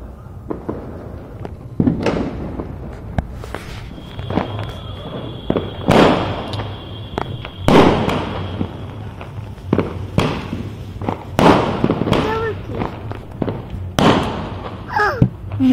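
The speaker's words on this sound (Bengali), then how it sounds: "ওরা সবাই বাজি ফাটাচ্ছে, আনন্দ করছে, আমরাও আনন্দ করছি।" Fireworks and firecrackers set off on New Year's Eve: a string of sharp bangs and cracks, some close and loud and others more distant, arrive at irregular intervals over a low background rumble.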